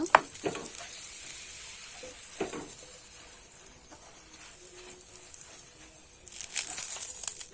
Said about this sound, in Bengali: এইভাবে কিন্তু আমি উল্টে পাল্টে পরোটাটা ভালো করে ভেজে নেব